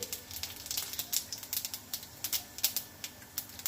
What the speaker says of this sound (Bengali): গোটা জিরে ফোড়ন দিয়ে দিলাম